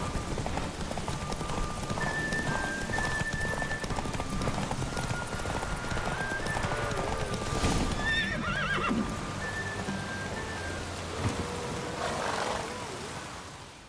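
A horse in the video game The Witcher 3 gallops with rapid rhythmic hoofbeats and a whinny, amid game music and ambient effects, with a voice speaking briefly over it.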